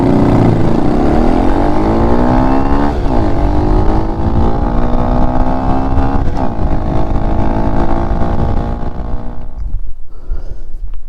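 A white Honda Grom motorcycle rides through a neighborhood. Its small engine revs loud and close, the pitch climbing steadily through the gears with brief dips at each shift. The engine then eases off near the end.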